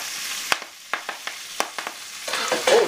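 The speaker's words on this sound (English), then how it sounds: "Listen. Listen to this sizzle." Rosemary oil sizzles in a pan while a home meal kit is being cooked: a steady frying hiss broken by several sharp pops and spits, growing busier and louder toward the end, with no talking.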